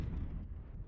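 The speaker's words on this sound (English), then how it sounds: "Listen to those plasma cannons." Plasma cannons fire in a MechWarrior battle game, giving a short, heavy, booming energy blast that fills the moment with a deep rumbling burst.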